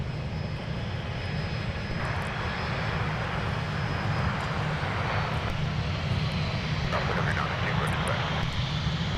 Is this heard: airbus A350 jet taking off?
yes